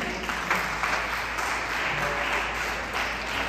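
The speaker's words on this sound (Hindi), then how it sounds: "आप सिर्फ तालियों से उन्हें बधाई दें।" Audience applause at a Hindi Day event honoring students, a steady even clapping from a crowd at moderate loudness throughout.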